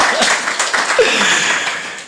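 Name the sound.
applause from audience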